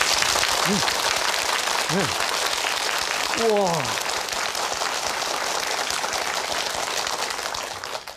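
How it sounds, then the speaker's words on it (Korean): Lecture audience giving a round of applause: steady, hissing crowd clapping that runs the whole time, with a couple of brief vocal exclamations early on. "박수."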